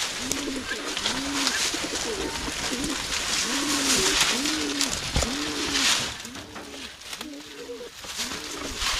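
Pigeons coo repeatedly in a steady rhythm, close by, in a new enclosure where goats are also kept, with a hiss of outdoor background noise throughout.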